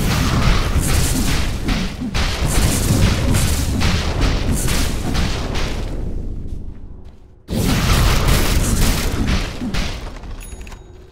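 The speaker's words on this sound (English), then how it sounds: "Radiant's top tower is under attack." A tower under attack in Dota 2, dense loud booms and thuds of combat rolling on for several seconds, a brief drop to near quiet, then another heavy barrage.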